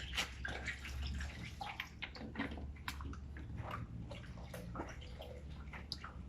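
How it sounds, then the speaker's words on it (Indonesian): Warm water being poured into a container for mixing with milk and medicine for animal care, a continuous close splashing trickle with small drips and gurgles, no talk. "Ini airnya hangat."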